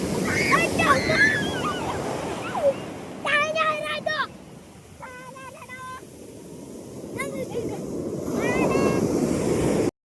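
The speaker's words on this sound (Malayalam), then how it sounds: "ഞങ്ങൾ പുഴയിൽ കുളിക്കുകയാണ്" River water splashes and churns close by in continuous bursts as people bathe, with gusty wind noise, while people talk and call out over it.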